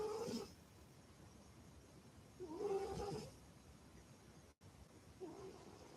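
A pet cat makes little squeaky, purr-like calls in three short bursts separated by quiet pauses, faint and close, with no talking.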